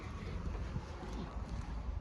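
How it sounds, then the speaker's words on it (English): Wind gusts rumble across a microphone outdoors, a low, uneven buffeting that swells and fades over a couple of seconds. "it's windy, number one"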